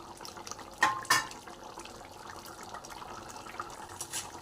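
Tamarind juice poured into a simmering okra and mutton curry in a pot, with a couple of brief clinks at the start followed by a soft, faint, steady liquid pour and light bubbling.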